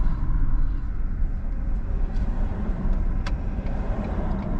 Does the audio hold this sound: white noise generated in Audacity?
no